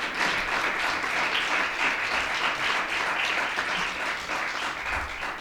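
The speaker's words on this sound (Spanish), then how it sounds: "Pues un aplauso para los tres por su asistencia aquí." A seated audience at a Spanish panel talk on independent media gives sustained, dense applause that holds at an even level throughout before tapering slightly at the end.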